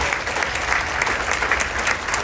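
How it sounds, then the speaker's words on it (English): A crowd on the last day at sea on a cruise applauds the panel after a Q&A session, a dense, steady wash of many hands clapping together, loud and sustained throughout with no pauses. "How about a round of applause for these amazing individuals?"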